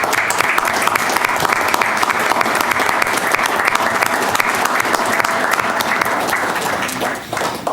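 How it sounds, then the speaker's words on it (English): Loud, sustained applause from a meeting audience honoring the Christmas Village Committee, steady dense clapping that tapers off near the end. "I would like to give you an applause"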